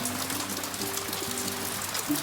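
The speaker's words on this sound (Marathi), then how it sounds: "बाहेर बघा किती पाऊस पडतोय" Heavy monsoon rain pours down outdoors in the Konkan, a dense, steady hiss of falling water with a faint low tone running beneath.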